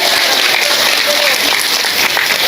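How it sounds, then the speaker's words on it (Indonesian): A crowd at an Indonesian religious gathering claps steadily and densely for a couple of seconds, loud and sustained, with voices mixed into the applause. "Tepuk tangan dulu."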